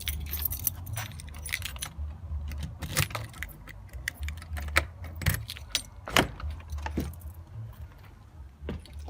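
A bunch of keys to a mobile home jangles and clinks in bursts close by, with quiet pauses in between.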